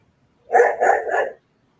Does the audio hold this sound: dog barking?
yes